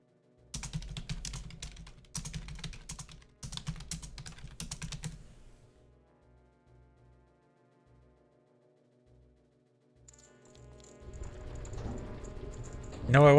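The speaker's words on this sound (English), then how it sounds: "I was typing in Discord" Someone types on a computer keyboard in bursts of rapid close clicks for a few seconds, then goes quiet, while some faint game sounds come in near the end.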